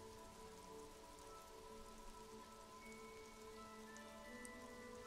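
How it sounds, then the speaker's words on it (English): Rain falling over water and a coastal stairway in the video game Disco Elysium, a soft steady patter with a faint tonal ambient drone underneath, quiet and unbroken with no speech. "Sheets of rain over the water"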